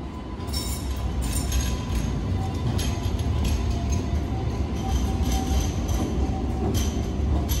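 An Alstom Citadis light rail tram on Sydney's L1 Dulwich Hill Line rolls past with a steady, loud rumble, with faint clicks and clinks from the wheels on the track running throughout.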